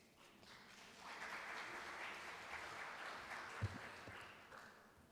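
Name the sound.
audience applause at a forum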